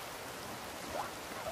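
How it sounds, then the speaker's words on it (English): Steady rain falls in the survival video game The Forest, a soft continuous hiss of drops with no other sounds. "Oh, wait, yes, rain."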